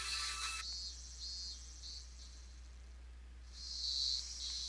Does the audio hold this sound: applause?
no